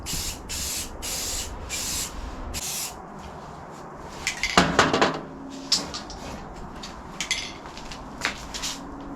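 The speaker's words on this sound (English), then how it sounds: "This is just a high heat Rust-Oleum high heat tough protective enamel, flat black, for barbecues." Rust-Oleum high heat flat black enamel is sprayed onto a rusty Masterbuilt electric smoker in five sharp hissing bursts, followed by close clattering and rattling of the can and metal parts.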